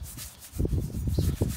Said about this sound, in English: we'll just give her just a little bit of a scrub.